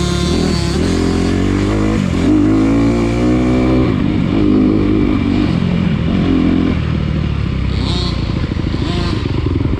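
Off-road dirt bikes ride a GP course at an off-road park, engines loud and close with revving and throttle changes, a rougher clattering motor joining partway through.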